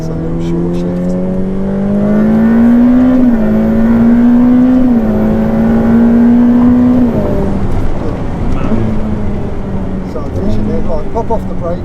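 A Ferrari F8 Tributo's engine on a track pulls hard and loud, its note climbing steadily before an early short-shift drops the pitch and it settles into a rougher drone, with a voice speaking over it at times.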